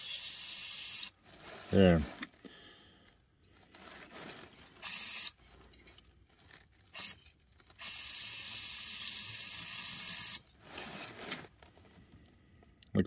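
An aerosol can of Electromotive electric parts cleaner sprays in several bursts of hissing, each a second or two long, separated by quiet gaps, close to the microphone, with a brief word spoken.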